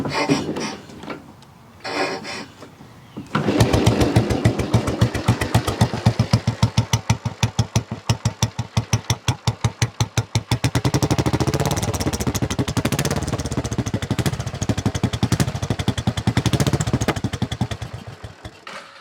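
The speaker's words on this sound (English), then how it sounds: "I'll start it up for you guys, but it's gonna die right away." A Royal Enfield Bullet motorcycle with badly off carburetion is kicked and fires up into a loud, close, rapid single-cylinder thumping that runs unevenly for about fifteen seconds before dying away, with a few scrapes and knocks before it catches.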